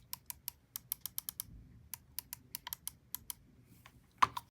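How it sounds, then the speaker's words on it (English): Side buttons on a Logitech Superstrike mouse give a close, quiet run of crisp mechanical clicks, pressed quickly in irregular bursts with short pauses between them. "the side buttons, these are not actually haptic, so these are still going to make some actual click noises"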